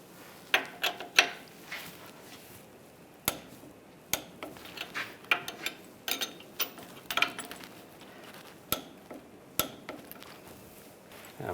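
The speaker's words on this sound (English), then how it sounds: "Now we're going to torque these bolts to 37 foot-pounds." Ratcheting clicks of a torque wrench tightening bolts during a stub shaft replacement on a 2007-2013 Chevrolet Silverado 1500, close-up, in short irregular bursts of sharp metallic ticks and clacks with quiet pauses between.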